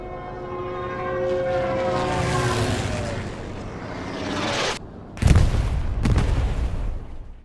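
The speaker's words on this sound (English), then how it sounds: "So here's the Stuka in action." A Stuka dive bomber in the Hell Let Loose video game screams down in a rising, whining dive, then loud bomb blasts boom in close succession with rumbling aftermath.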